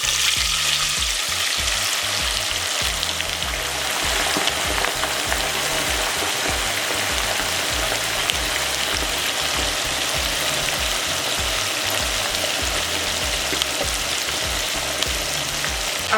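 Haitian fried chicken, dark meat pieces deep frying in hot oil, a steady dense sizzle and crackle close up, continuous and even throughout without speech.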